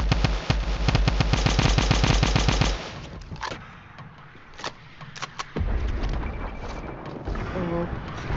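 Rapid automatic gunfire from the video game Fortnite, a dense burst of shots for about three seconds followed by scattered single shots and game effects, with louder firing resuming later.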